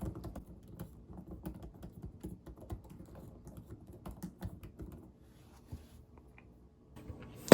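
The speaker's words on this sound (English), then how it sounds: "The keyboard has that quiet tone when typing." Keys on a Google Pixelbook Go laptop keyboard tap out a steady, quiet run of soft clicks for about five seconds, then a brief pause and a few scattered presses, ending in one louder knock.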